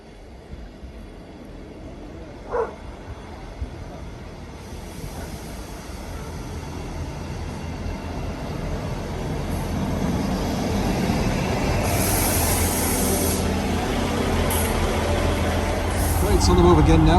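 A train rolls past near Settle on the Settle line, its rumble slowly building and growing louder over several seconds with a brief squeal and a faint knock, heard outdoors from a walking route.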